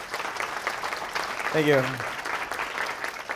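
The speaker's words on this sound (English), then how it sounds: "Please give him a round of applause." A conference audience at a Codeland NYC developer talk applauds steadily, a dense wash of clapping that carries on throughout while a speaker briefly talks over it.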